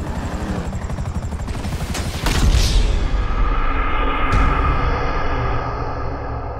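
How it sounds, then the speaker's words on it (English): A helicopter in the video game GTA 5 roars close by with a loud chopping rotor and engine whine, swelling heavier about midway as it nears, mixed with blasts and combat noise. "Another chopper!"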